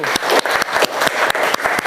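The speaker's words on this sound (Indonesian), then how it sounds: "Oke, beri tepuk tangan untuk kelompok 1." A classroom of fifth-grade students claps for a group that has just presented, a dense, steady patter of many hands with sharp individual claps standing out, loud and close.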